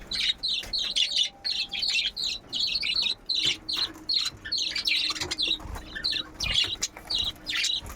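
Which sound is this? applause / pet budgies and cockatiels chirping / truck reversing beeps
pet budgies and cockatiels chirping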